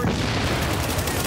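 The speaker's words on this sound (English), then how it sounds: "Have to love those grenades." Grenade blasts in the shooter game Tom Clancy's The Division: dense, loud booming bursts and crackling gunfire fill the short moment without a break, with no talk over them.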